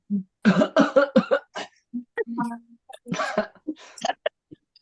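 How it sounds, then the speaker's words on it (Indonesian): Several harsh coughs in bursts, close and fairly loud, with throat clearing and brief voice sounds between them. "Pasiennya udah batuk gitu"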